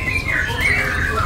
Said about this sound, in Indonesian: Jadi ini loper yang panda ya.